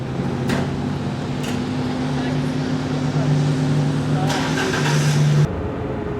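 Ferrari 166 MM engine during Car Week traffic, a steady, fairly loud droning hum with two brief bursts early on and a rougher swell near the end before it cuts off abruptly.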